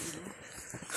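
A dog whimpers and yips briefly, fairly close, amid some background noise on a hill trek at Ethina Bhuja, Shishila Gudda.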